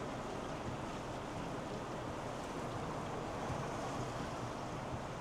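Water jets spray a Malibu motorhome during a factory leak test, producing a faint, continuous broadband hiss of water pouring down the rear panels and windows, steady and unbroken.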